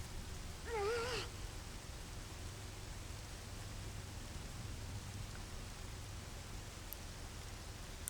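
Rain falls in the video game Zelda: Majora's Mask as a constant, even wash of noise with a low hum beneath. A short wavering tone rises briefly near the start.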